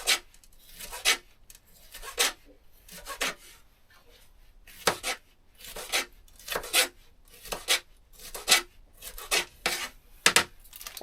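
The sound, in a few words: knife chopping pepper into chunks on a board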